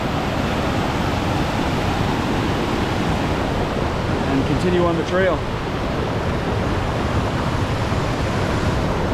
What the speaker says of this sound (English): cross this nice flowing river